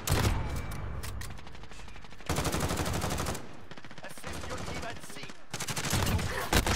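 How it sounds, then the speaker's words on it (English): Gunshots fired at the player during a sniper match in a shooter game, bursts of rapid fire alternating with short quieter gaps, loud and close, with faint voices in the background. "Somebody shot at me."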